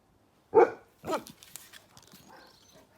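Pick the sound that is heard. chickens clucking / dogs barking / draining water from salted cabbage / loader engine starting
dogs barking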